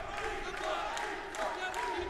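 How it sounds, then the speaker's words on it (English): Crowd at an MMA world championship fight in Bahrain roaring and shouting in a sustained swell, with voices rising and falling over the arena noise. "The crowd respond here."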